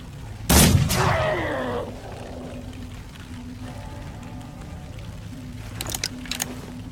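A single loud, close gunshot with a ringing tail opens a video game match, followed by quieter scattered shots and background game sounds.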